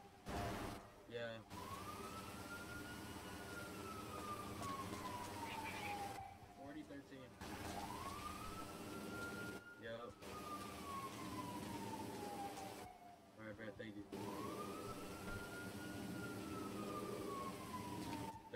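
An ambulance siren wails in repeated rising and falling sweeps, fairly faint and steady, with short breaks between cycles.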